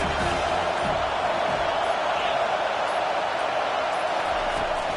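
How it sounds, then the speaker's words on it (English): A packed college football stadium crowd at an Oregon versus USC game roars steadily for the home defense, a dense, continuous wall of noise that never lets up. "Listen to this crowd just shaking the girders of this place, trying to help their defense"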